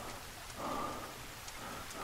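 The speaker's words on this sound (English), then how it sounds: "Well, except for the rain" Steady rain falling in the survival video game The Forest, a soft, even hiss throughout with a slightly louder swell midway, no voices present.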